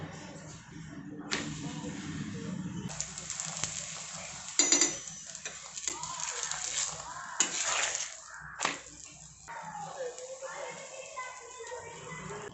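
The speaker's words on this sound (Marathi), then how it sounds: "पराठा मिडियम तेल लो गॅसवरती आपण छान असा भाजून घेऊयात" Aloo paratha frying in oil on a hot tawa over low-medium flame: a continuous close sizzle broken by occasional clinks and scrapes of a utensil, with a few brief bursts of sound.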